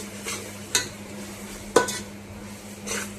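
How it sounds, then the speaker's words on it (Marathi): Vegetables sautéing in a pan for chicken biryani, a low steady sizzle broken by two distinct spatula clanks against the metal pan and light stirring scrapes, no speech. "परतून घेऊयात आपण"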